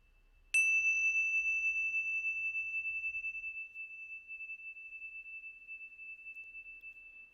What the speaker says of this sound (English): in the sound of the bell.